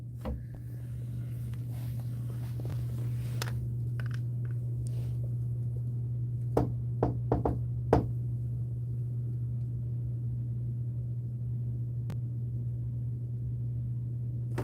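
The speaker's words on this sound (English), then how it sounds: "if I knock on the wall" Knocks on a basement wall, a few sharp raps in a quick cluster near the middle of the clip, with a single knock before them and another after, all over a steady low electrical hum.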